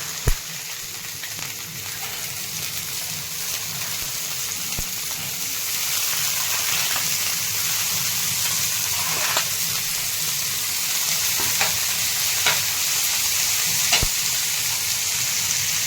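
Chopped onion sizzles in oil in a pan with garlic, cumin and mustard seeds, a steady close crackle and hiss that swells slightly partway through, with occasional small pops and stirring scrapes.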